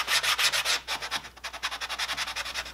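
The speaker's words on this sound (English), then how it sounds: "So now I'm sanding the braces." Quick back-and-forth strokes of sandpaper rasp against the wooden braces of an acoustic guitar soundboard, close and rhythmic, with a brief pause before resuming faster.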